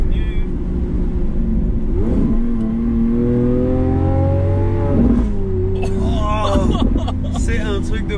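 A Lamborghini sports car engine revs and accelerates, pitch rising through gear changes, loud and close, with a voice talking over it.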